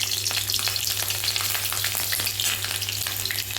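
Green chilies frying in hot mustard oil in a home kitchen pan, a loud, close, continuous crackling sizzle with bursts of spitting oil and a low steady hum beneath, no voices.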